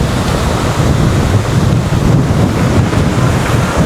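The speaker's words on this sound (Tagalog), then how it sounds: "Kahit malakas yung alon." Strong ocean waves at Boracay beach, a steady, loud wash of surf with heavy wind rumble across the microphone, continuous throughout with no talk.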